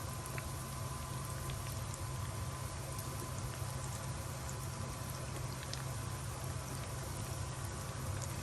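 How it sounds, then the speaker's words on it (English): Egusi seeds frying in vegetable oil in a large pot, a steady, dense sizzle and crackle that holds evenly close-up throughout, with no talking. "So I'll let this fry for 5 minutes."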